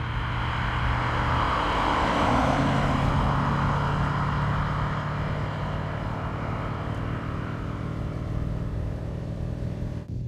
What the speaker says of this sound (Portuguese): Parece mais um gerador, ele tem uma potência incrível, mas não sobe de giro rapidamente.